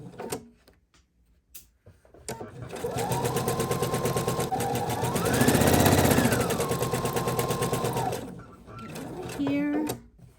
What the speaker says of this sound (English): come back over and do another stitch or two